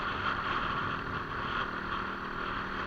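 A dirt bike engine being run in after a new piston, cylinder, rings and gaskets, held at part throttle: a steady, continuous, close-up motor drone with wind-like roar and no pauses.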